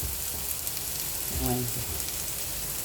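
Slices of pointed gourd frying in a pan, a soft continuous sizzle heard close, with a brief voice-like murmur partway through.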